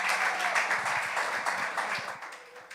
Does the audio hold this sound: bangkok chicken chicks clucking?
no